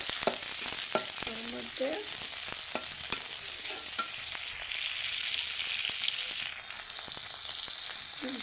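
Onions and chillies fry in hot oil in a pan for a tilapia vegetable kaliya, a steady close sizzle broken by repeated spatula stirs and scrapes, with a brief spoken phrase.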